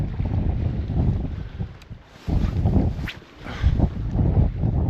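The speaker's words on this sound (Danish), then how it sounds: "Hvis det bare for helvede var med at blæse så meget" Strong wind blowing at a coastal sea trout fishing spot by Sønderby Klint, roaring and buffeting the microphone in heavy gusts that dip briefly and surge back, loud and close with no voices.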